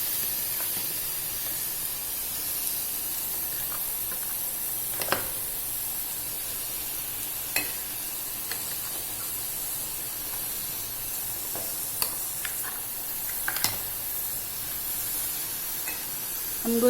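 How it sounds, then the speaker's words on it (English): Masala sizzling in a hot pan for a drumstick curry with jaggery, a steady loud frying hiss throughout with occasional small clinks and pops. "Now we can add in the masala."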